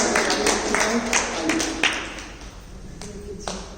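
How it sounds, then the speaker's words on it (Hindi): A group at a yoga teacher-training session claps, with several sharp, scattered claps over a room murmur that thin out toward the end. "जरा बैठने के लिए ताली बजाओ।"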